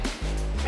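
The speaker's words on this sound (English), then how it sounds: "Oh, the dog's following us again." A stray dog trotting along behind hikers on the trail to El Limón waterfall in Samaná gives one short, close bark or yip.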